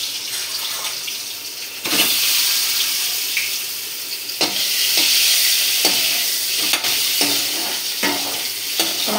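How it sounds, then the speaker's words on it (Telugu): Boiled eggs frying in hot oil with turmeric, a loud continuous sizzle and crackle punctuated by repeated scrapes and knocks of a spoon turning them in the pan. "ఫ్రై చేసుకోవాలండి ఎగ్స్ని"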